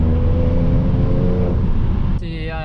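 Car engine idling and rising gently as the accelerator is barely touched, a steady close hum that drops away near the end, with a voice speaking over part of it.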